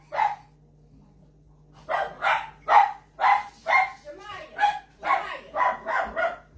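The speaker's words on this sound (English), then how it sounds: "Y'all heard the dogs." Dogs bark close by in a quick run of about ten sharp barks after one opening bark, loud and clear with little else around them.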